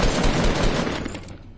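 Dense, loud automatic gunfire from a Fortnite match at Loot Lake, a continuous rattling burst of rapid shots that holds steady and then tapers slightly toward the end, with no talking over it.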